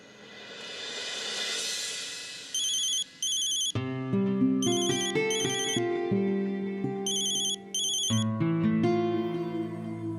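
A mobile phone plays a bright, melodic ringtone for an incoming call, its tune repeating in phrases with short pauses, loud and close, with no voices over it.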